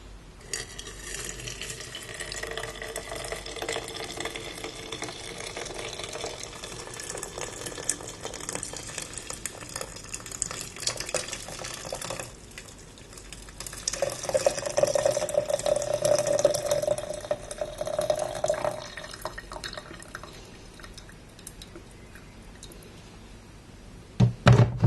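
Traditional tea making, with water and stirring: a quiet, continuous close-up hiss and gentle rustle, a stretch of soft watery stirring with faint clinks, and a couple of sharp knocks at the very end.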